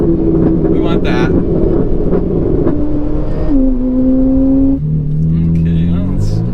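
Engine of a Ferrari 488 revving loud and close, a sustained tonal drone whose pitch steps and shifts as the revs change, buried in heavy wind noise with someone talking over it.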